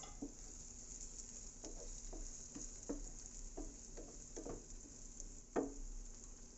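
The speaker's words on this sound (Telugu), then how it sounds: "ఇప్పుడు ఈ కాకరకాయ ముక్కలను కూడా వేసేసుకొని బాగా కలుపుకోవాలి" Small bitter gourd pieces stirred and frying in a pan, a soft steady sizzle broken by repeated scraping knocks of the spoon, close and fairly quiet, with no talking.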